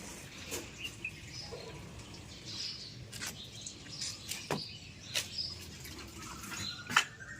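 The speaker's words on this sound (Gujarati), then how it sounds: "જો પક્ષીઓ બોલે છે" Scattered bird chirps and tweets ring out in a cold, foggy morning outdoors, faint and intermittent over a low steady background hiss, with a few sharper calls standing out now and then.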